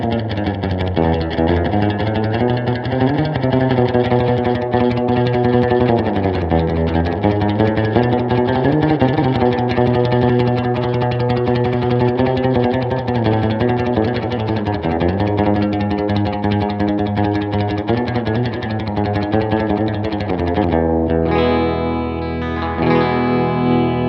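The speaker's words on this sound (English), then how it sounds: "Another feature is the spring reverb that, together with the clean tone, inspired generations of different guitar players." A Fender electric guitar amp with clean tone and spring reverb rings out loud and continuous, notes sliding and sustaining with a wet, reverberant tail.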